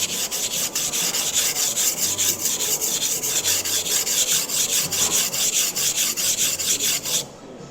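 A Misono UX10 70/30 right-handed knife is ground on a coarse 220-grit whetstone, giving steady, close, rhythmic scraping strokes that run continuously, then stop abruptly near the end.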